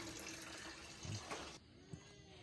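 Water runs into a container while it is being filled at a rainy campsite on Mt. Acato, a steady faint splashing rush with a few louder bumps, close by and without talk.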